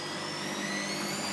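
A Candy GO DF800 washing machine spins its drum at around 300 RPM, a steady, close whirring hum with a rising whine and no other sounds.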